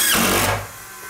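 A power drill drives a screw into cement board with a brief, loud whirring buzz that cuts off after about half a second, leaving a quiet tail.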